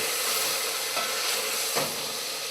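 Lardons sizzle steadily in a hot pan as they render, a continuous close crackling hiss with slight stirring bumps near one and nearly two seconds and no voices.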